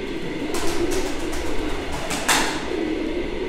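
A pair of Mardin tumbler pigeons coo softly in a loft against a steady, noisy background, with a few brief fluttering bursts.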